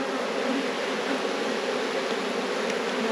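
Honey bees swarm around an opened hive frame, a steady dense close buzz with no break, filling the whole stretch without voices.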